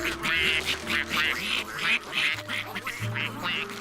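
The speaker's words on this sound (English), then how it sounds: "Ducks!" Cartoon ducks quack in a steady string of repeated, fairly loud calls over light background music, close and continuous while being fed at a pond.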